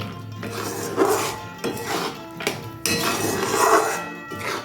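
Peanuts are tipped into a pan of caramelizing sugar and stirred for peanut brittle, making several loud clattering knocks and scraping clinks of a utensil against the metal pan.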